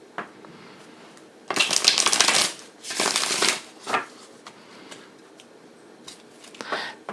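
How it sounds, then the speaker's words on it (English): Tarot cards being shuffled together by hand in bursts of rapid riffling and rustling, with quieter handling and shorter shuffles between, close and distinct with no talking. "we shuffle them together, mix them up"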